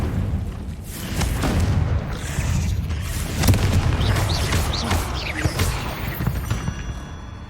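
Fire spell blasts in a magic action game, booming explosive bursts repeating through a dense, loud stretch of battle effects and rumbling background score, with no pause between hits.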